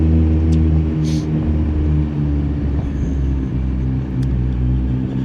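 London road traffic heard from a commuting motorbike: a loud, steady low engine rumble with deep droning tones, the bike idling and creeping among cars, with a couple of brief sharp clicks.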